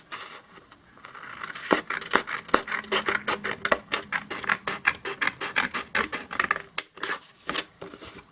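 Scissors snip through paper while cutting out pieces for an Alice in Wonderland paper craft, making a steady run of close, crisp rasping cuts that speed into quick regular strokes and play without talk.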